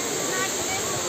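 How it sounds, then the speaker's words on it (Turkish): Turkey's largest waterfall, a dense, steady rushing roar of falling water heard close and constant with no breaks. "Şelalenin güzelliği."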